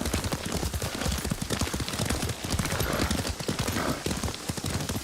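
Rapid, continuous clip-clop of horse hooves galloping over ground while riding in the video game Ghost of Tsushima, loud and close with a dense rhythmic pounding.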